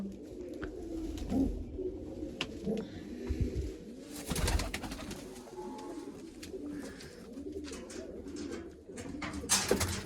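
Pigeons coo in soft, repeated rounded calls, with occasional rustling and brief clatter in the background.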